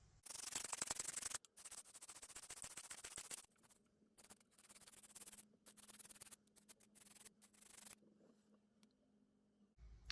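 A hand file cuts a groove in a metal piece clamped in a vise for a propeller spinner, rasping in close, loud bursts that stop and start with quieter scraping between strokes.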